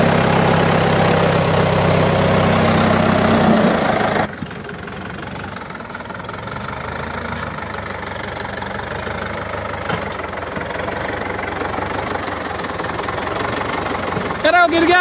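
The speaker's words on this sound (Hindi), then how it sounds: "हेलीकॉप्टर की तरह आवाज है भाई साहब इस ट्रैक्टर की," An old 1972 Romania 650, 65 hp tractor engine idles loudly with a rough, rhythmic knocking chug, heard up close, while people talk over the steady rumble.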